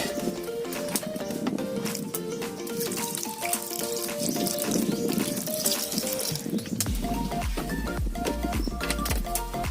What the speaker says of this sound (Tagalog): Lagyan natin konti ng